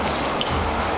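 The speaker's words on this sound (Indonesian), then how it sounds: "kita siramkan air ke seluruh tubuh jenazah" Water poured over a deceased body during Islamic ritual washing, a loud, steady splashing wash of water lasting about a second, with no voices.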